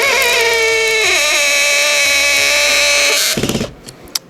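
Loud whining motor of a Procraft Industrial PA18DFR cordless drill spinning at high speed while drilling, its pitch shifting once, then winding down to a rattle and a final click.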